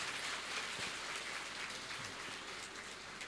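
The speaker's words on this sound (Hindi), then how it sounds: "जोरदार तालियां एक बार" A crowd at a motivational talk for students breaks into loud applause. It sounds like a dense, continuous wash of many hands, much like heavy rain, and it stays faint and distant throughout with no voices over it.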